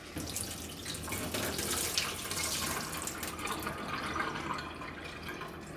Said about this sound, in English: Now it's time to go ahead and drain and rinse.